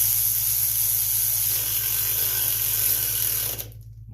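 A socket ratchet tightens bolts on a 2007 Poulan Pro 19.5 hp riding lawn mower. A steady, close clicking buzz continues for several seconds before it stops abruptly.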